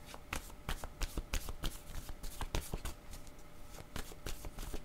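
Tarot cards shuffled by hand before a card is drawn, a rapid run of crisp riffling flicks and slaps repeating close up for several seconds with no talking.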